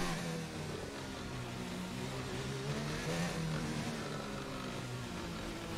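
A high-pitched Formula 1 car engine in the video game F1 2019 screams steadily at speed on the Spain circuit, with gear changes and shifting revs, loud and constant throughout.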